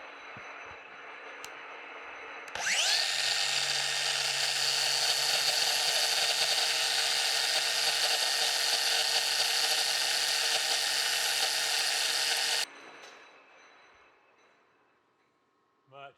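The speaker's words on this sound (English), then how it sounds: "Got a 120 grit flap disc here on the angle grinder." Angle grinder fitted with a 120 grit flap disc sanding a wooden bandsaw wheel rim, a loud steady high whine running for about ten seconds after a sudden start, then spinning down into quieter noise.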